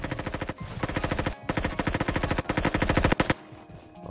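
Automatic gunfire in a Roblox shooter game, rapid continuous bursts of machine-gun fire that run almost the whole time with only brief pauses, loud and close.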